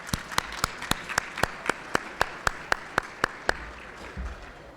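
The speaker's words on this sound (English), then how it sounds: "Let's give everybody a round of applause." A gala dinner audience claps in a steady sequence of about fifteen sharp, evenly spaced claps over a low background murmur, fading into quiet at the end.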